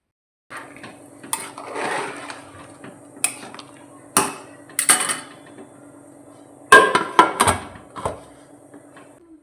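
A spoon stirs egg biryani with coriander leaves in a metal pot, giving a series of close, loud scrapes and sharp clanks against the sides in uneven bursts, with quiet gaps between and no voices.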